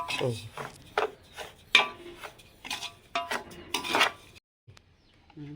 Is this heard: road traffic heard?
no